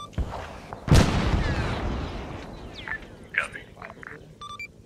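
RPG rounds exploding in the trees above soldiers: one loud sharp blast followed by a long rumbling decay, with distant pops and radio-like chirps after it, and voices present.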